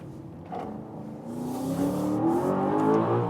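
An Audi RS Q8 or Aston Martin DBX engine on a winding road near a hairpin, revving up steadily with rising pitch from a brief lull, close and growing louder.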